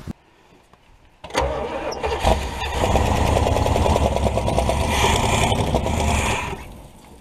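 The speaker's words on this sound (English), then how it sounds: "Try and fire up the mud truck today" A mud truck engine cranks and fires up abruptly, settling into a loud, rough, rumbling run close by that holds steady for several seconds before easing off at the end.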